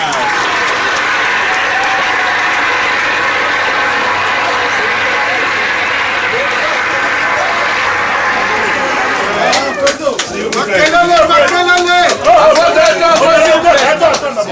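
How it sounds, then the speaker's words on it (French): Birthday celebration audience applauding for Papa Jean-Claude Nzingoula, a steady dense wash of clapping filling the room, with voices and cheering rising over it toward the end. "Est-ce qu'on peut applaudir pour Papa Nzingula Jean-Claude?"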